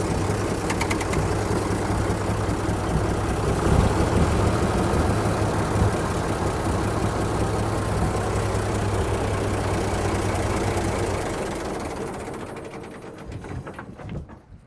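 A 1924 American LaFrance fire engine idles steadily with a low rumble and broadband mechanical noise, then quiets toward the end.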